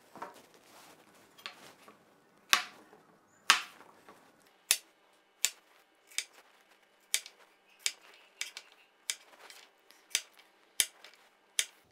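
A knife slicing zucchini into sticks on a cutting board, a steady series of sharp, close taps as the blade strikes the board, coming roughly once per second with faint handling noise in between.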